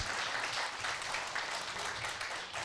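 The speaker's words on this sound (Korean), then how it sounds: "큰 격려의 박수 한번 부탁드립니다." A lecture hall audience claps at the close of a philosophy and humanities forum talk, a steady dense wash of applause, fairly distant and soft, with no voices over it.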